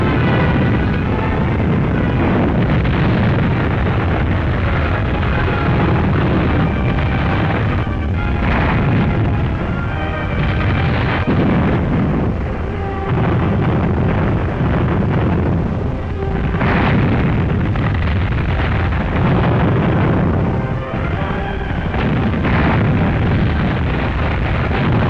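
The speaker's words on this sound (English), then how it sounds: "Super heavy guns support the attack by laying down a terrible barrage around our beachheads" A 1944 barrage of 240 mm super heavy guns lays down loud, continuous artillery fire, deep booms and blasts overlapping into a dense, rumbling roar throughout.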